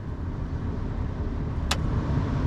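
A Ford F250 truck's cabin blower fan running on high with the engine off, a steady broadband whoosh filling the cab at close range, with one brief sharp click partway through.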